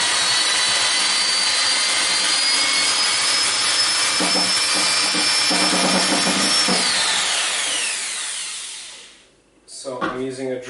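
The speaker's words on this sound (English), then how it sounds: "So I'm using a drill with my Rapido honey mixer." A power drill fitted with a Rapido honey mixer whirs steadily at high speed while mixing honey and water for mead. It runs loud and continuous, then winds down, followed by a brief voice.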